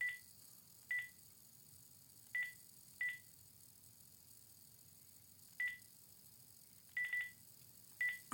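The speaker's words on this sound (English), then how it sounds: "Yes, I'm beeping. I'm trying to get rid of the beep." Keypad tones from a phone pressed one at a time while changing its ringer settings, seven or eight short separate beeps spread irregularly over a quiet room background.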